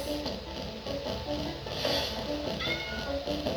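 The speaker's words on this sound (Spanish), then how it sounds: "Todos se ablandan con los gatitos." Kittens let out a couple of thin, high meows toward the end over a steady, busy background sound.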